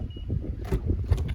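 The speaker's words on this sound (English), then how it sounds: "put your hand behind the door handle," A 2018 Honda Accord Touring with a white pearl exterior unlocks as a hand reaches behind the door handle: a quick mechanical clunk and rustle close by, over faint outdoor noise.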